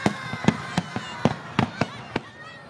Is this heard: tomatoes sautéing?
no